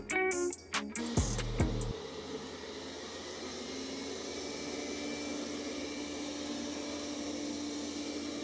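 Roborock S6 MaxV robot vacuum cleaner running, a few brief beeps and clunks at the start, then a steady even whirring hum of suction that continues unbroken.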